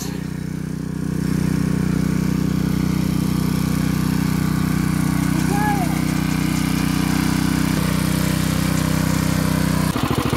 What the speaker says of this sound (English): This is Champion Power Equipment, 19 inches, 48 centimeter, rear tine tiller, moto cultivator